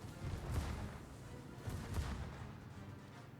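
Naval guns in World of Warships fire high-explosive shells in a World of Warships tournament match, two heavy booming salvos about a second and a half apart over a constant low rumble, moderately loud.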